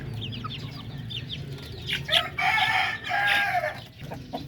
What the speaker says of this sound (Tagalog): isang rooster na darag oh